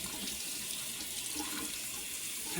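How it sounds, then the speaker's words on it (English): Mushrooms are rinsed under a running kitchen tap, giving a steady, even splashing hiss of water into the sink throughout, close by and uninterrupted. "I'm going to rinse those real good in water."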